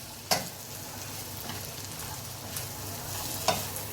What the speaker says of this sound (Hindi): ये येलो कैप्सिकम डाल रही हूँ, ये डाल के अपने अच्छे से मिक्स करना है।